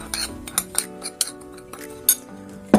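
Salt, chicken seasoning, paprika and black pepper mixed in a bowl, with a run of light clinks and scrapes of a utensil against the dish, close and fairly loud, and no talking.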